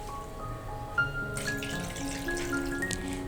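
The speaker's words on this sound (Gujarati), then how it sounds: "ત્યારબાદ આપણે તેમાં 2 કપ પાણી એડ કરી દઈશું" Two cups of water poured into a pan for cheese garlic Maggi noodles make a soft, steady, faint splashing trickle, with no one speaking.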